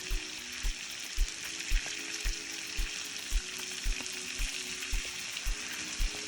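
A salmon fillet, uncoated with flour, fries in a pan with a steady bright sizzle, punctuated by regular soft low thumps about every half second; no voices.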